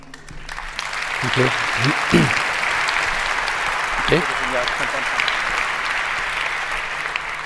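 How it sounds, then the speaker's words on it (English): Audience applause fills a conference hall at a Chaos Communication Congress talk, with steady clapping throughout and a brief spoken thanks from the stage near the start. "But first, a big applause again"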